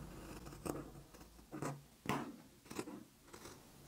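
Scissors cutting folded cotton jersey T-shirt fabric, about five crisp close snips spaced roughly half a second apart in a quiet room.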